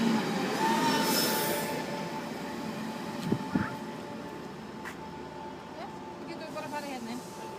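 A train pulls into a Danish station, its rumble steady with a few clanks and faint wheel squeal, while people talk nearby.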